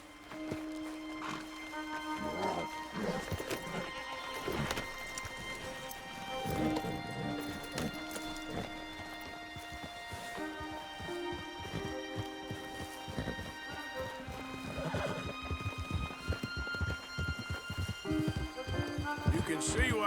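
Horse hooves clip-clop steadily with occasional whinnies in Red Dead Redemption 2, a quiet, continuous rhythmic patter of walking and trotting horses under game ambience and music.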